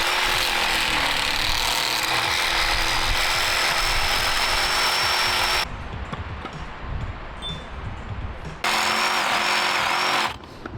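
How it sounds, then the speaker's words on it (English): A reciprocating saw with a Canadian Tire blade cuts through home-milled lumber while framing a 12x40 barn addition, giving a loud, steady buzzing rasp that stops partway, then briefly resumes before cutting out again. "It's a sawzall. It saws off everything."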